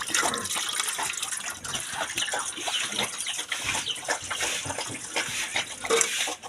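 Water gushes and splashes steadily into a bucket on a pig farm during washing, a continuous, fairly close pouring sound with no clear speech.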